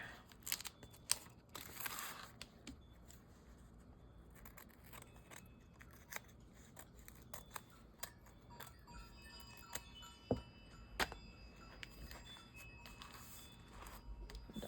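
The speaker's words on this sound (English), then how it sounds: "We'll snip, snip, snip. And then we gotta snip off the edge over here." Scissors snip through paper for a handmade collage in a glue book, with quiet, irregular cuts and small crisp clicks spread over a hushed background, heard alone without talk.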